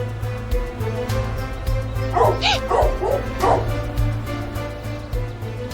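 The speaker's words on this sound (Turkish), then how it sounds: "Yoksa bunlar o köpekler mi?" Several dog barks and yips in a short cluster, fairly close, over a steady low hum, with no talking.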